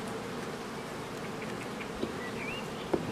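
Honey bees buzzing around a hive in an apiary on a sunny spring day, a steady dense hum of many insects close by, with occasional individual bees flying past.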